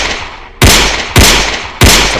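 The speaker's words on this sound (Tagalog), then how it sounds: "Sunod ang putok ng baril. 3 putok." Three loud gunshots ring out about half a second apart, each a sharp crack followed by a short decaying echo.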